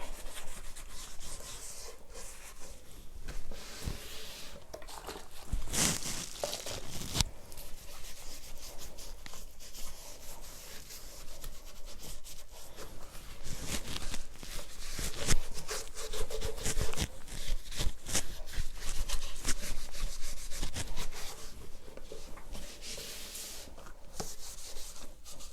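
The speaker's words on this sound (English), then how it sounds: "Really give it a good scrub, because you don't know how dirty and how long it's been dirty" Wooden furniture being scrubbed hard with a cleaning cloth in preparation for chalk painting, a continuous rough rubbing and scraping with uneven back-and-forth strokes, close and fairly steady throughout.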